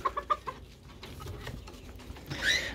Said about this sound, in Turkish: Ama harika bir horoz.